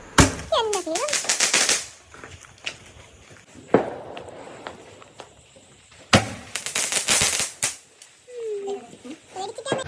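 Sharp bursts of firecrackers crackle in rapid clusters during Vishu festival celebrations at a home, loud and close, with a quieter gap between volleys and people talking in the background.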